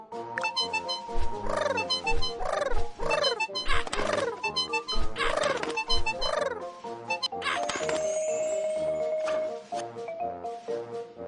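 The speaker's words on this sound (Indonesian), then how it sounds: "Ada beberapa burung, cepat usir mereka." Cartoonish bird squawks in a children's video game where a cat is rescued from a tree, rising-and-falling calls repeating in a quick rhythm over game music, then a steady tone near the end.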